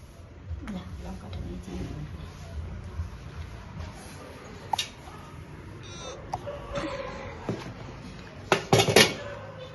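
Dishes and pots clatter and clink intermittently in a home kitchen, with louder cutlery and metal knocks bunching toward the end over a soft background murmur.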